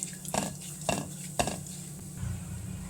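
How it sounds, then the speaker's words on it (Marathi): Poppy seeds being sautéed with a modak filling in a pan, with a spoon scraping and three sharp metal knocks against the pan over a low, steady background. "अर्धा चमचा मी खसखस घातलेली आहे आणि हे छान परतून घेऊया"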